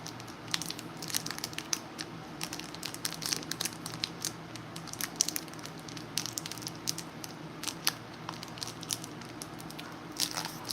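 A Pokémon Surging Sparks booster pack is torn open by hand: quiet, close crinkling and crunching of foil wrapper in irregular bursts, with no talking.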